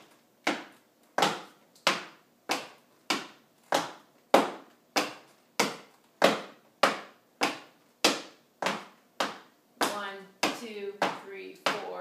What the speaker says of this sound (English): So your two sound walking step would sound like this.